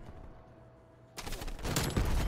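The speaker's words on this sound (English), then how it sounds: "I shot it, we went through him and into the propane tank and blew him the fuck up." In a video game, a sniper rifle shot sets off a propane tank explosion: after a quiet stretch, a sudden loud blast erupts and rolls into a dense, crackling roar that stays loud to the end.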